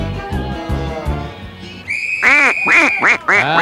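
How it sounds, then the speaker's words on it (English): Ducks quack in a short run of low, nasal honks, followed by shrill whistled notes sliding up and down. "lubin thinks that he's doing a wonderful job getting all these ducks out in record time"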